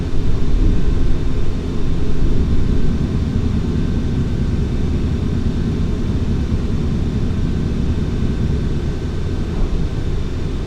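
Boeing 737-800 in Flight Simulator X climbing after takeoff with gear up, engine roar a steady loud rumble that eases slightly after the first seconds, no voices.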